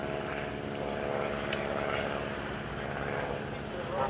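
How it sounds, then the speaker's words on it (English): A Stampe SV-4 biplane comes in to land at a World War II weekend airshow, its propeller engine droning steadily at moderate distance with faint crowd sounds around it. "Here comes one from the left landing on it."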